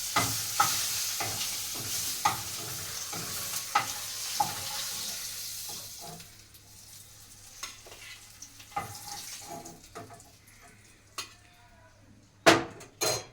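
Fish and okra fry in hot oil in a pan, a steady sizzle broken by repeated sharp scrapes and clinks of a utensil stirring against the metal, with a few louder knocks near the end.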